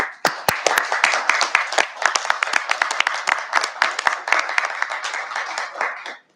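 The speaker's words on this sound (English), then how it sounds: "I think they deserve a big round of applause" A round of applause with distinct, sharp individual claps standing out from the crowd, steady and moderately close, tapering off at the end.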